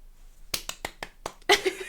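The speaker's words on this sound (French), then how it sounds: "Je sais pas pourquoi j'applaudis." A woman claps her hands in a short burst of sharp, close slaps, roughly seven claps in quick irregular succession, followed by a brief voice.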